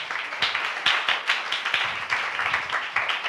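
Church congregation clapping together in thanks to God, a brisk run of sharp claps repeating at a quick rhythm, moderately close and fairly quiet.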